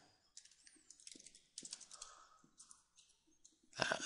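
Quiet keystrokes on a computer keyboard as an address is typed into a web browser on an Exchange server, short bursts of clicks, fairly close, with a louder flurry at the end.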